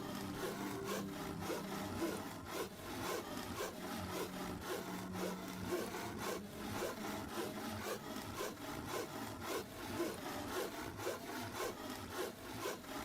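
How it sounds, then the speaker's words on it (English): Rhythmic back-and-forth sawing of stripped logs in the online crafting game Bitcraft, a steady repeated rasping stroke continuing without pause and without speech. "you're sawing 156 stripped logs right now"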